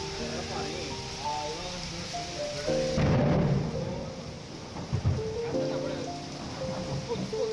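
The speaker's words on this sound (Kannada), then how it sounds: "ಆಲ್ರೆಡಿ ಜೋರಾಗಿ ಮಳೆ ಬರ್ತಾ ಇದೆ" Heavy rain pours steadily on a stormy day, with a deep rumble of thunder swelling midway, while a person talks over the continuous wash of rainfall.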